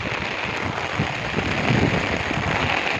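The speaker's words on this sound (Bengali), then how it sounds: "মাঠে এসেছি আর বৃষ্টি শুরু হয়ে গেছে।" Steady, dense hiss of heavy rain pouring down continuously over an open field, loud and close, with no voices.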